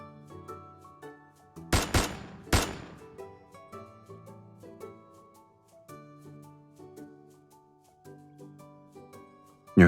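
Gunshots in the video game Love and Deepspace: two sharp, loud blasts in quick succession, followed by faint later pops, set against a sustained layered musical score.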